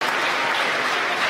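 A crowd cheers and applauds steadily as a SpaceX Dragon spacecraft deploys into orbit, a dense, continuous wash of clapping and shouting with no gaps.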